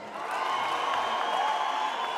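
Concert crowd at a Rwandan artist's tenth-anniversary show applauding and cheering, a dense continuous roar of clapping and shouts at steady loud level.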